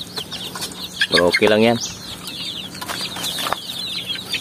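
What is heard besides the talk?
free-range chickens clucking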